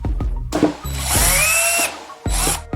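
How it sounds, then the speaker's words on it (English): A power drill whirs loudly, revving in short bursts with a high whine as it bites into plier handles, then spins down and starts again. "Drill holes in the pliers handles."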